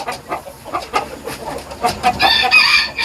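A rooster crows and clucks close by, loud and alone, its calls rising in repeated bursts over a few seconds in a chicken yard during a heat wave.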